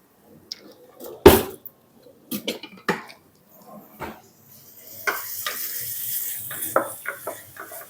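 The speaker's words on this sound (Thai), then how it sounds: "ผัดหอมแดงกับกระเทียมให้เหลืองหอมค่ะ" Shallots and chopped garlic stir-fry in oil, heard as a faint, intermittent sizzle with scattered scraping strokes and a few sharp knocks, plus a cough early on, building to steadier frying in the latter half.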